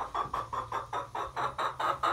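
Chickens in a converted school bus animal shelter cluck in a quick, regular series of about ten short calls, fairly close but soft.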